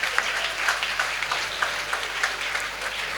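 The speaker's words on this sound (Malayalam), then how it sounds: "എല്ലാവരും നിറഞ്ഞ കൈയടി കൊടുത്ത് അവാർഡ് ദാതാക്കളെ പ്രോത്സാഹിപ്പിക്കണമെന്ന് അഭ്യർത്ഥിക്കുകയാണ്" Audience applause at a state-level World AIDS Day award ceremony for the award presenters, a steady wash of many hands clapping at moderate distance, with no voices over it.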